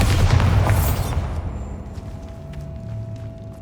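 A Bombarda blasting spell in Hogwarts Legacy lands as a loud, deep boom, then rumbles away into a fading tail over a quiet hum.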